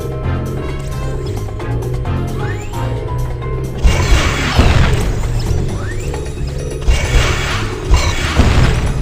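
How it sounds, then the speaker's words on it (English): Laser turrets get blasted in Despicable Me: The Game on PSP: loud crashing, zapping impacts and mechanical clatter that intensify midway and recur in bursts, with no voices. "Try blasting these laser turrets and see what happens."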